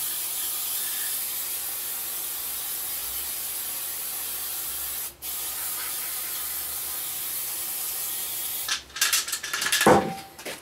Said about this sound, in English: I'm just going to give her a little spray of some brake clean off cam here.